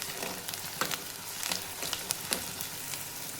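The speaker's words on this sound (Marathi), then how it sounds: "कांदा छान असा भाजून घ्यायचा आहे." Onion and garlic paste fries in a pan for varan, giving a steady close sizzle with crackling pops and a few stirring scrapes throughout.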